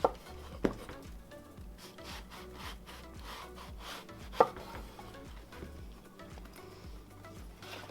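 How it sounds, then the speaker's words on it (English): Kitchen knife slicing an eggplant into inch-wide strips on a cutting board, with rhythmic rasping cuts, a few sharp knocks of the blade hitting the board, close and moderately loud with no talking. "Now what I'm gonna do is cut it down like that, and I'm gonna make kind of like eggplant sticks"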